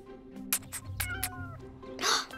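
Cartoon cat meowing several times in quick short calls, close and clear, with a brief hiss-like burst at the end.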